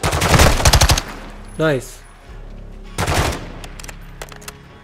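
Rapid automatic gunfire from Call of Duty Modern Warfare 2 (2022) bursts loudly in a tight volley, then a second shorter burst follows after a pause, with a brief spoken word between.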